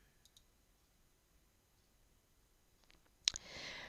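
Single sharp mouse click on the Accept Referral button in SystmOne clinical software, a brief isolated tick near the end of an otherwise quiet stretch, followed by a faint hiss.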